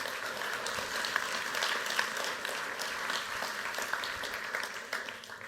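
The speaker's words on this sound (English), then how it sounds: "Let's give them a round of applause." An audience at a scientific conference poster flash session applauds: dense, even clapping from a roomful of people, sustained for several seconds at a moderate level.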